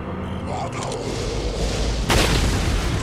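A sniper rifle shot in Resident Evil 4 lands as one loud booming burst near the end, following a stretch of rumbling in-game ambience, with a voice talking over it.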